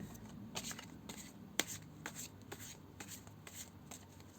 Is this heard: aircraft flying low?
no